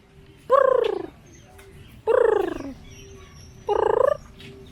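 A bird gives three loud, harsh, gobbling calls in a row with short gaps between them, close by over a low hum.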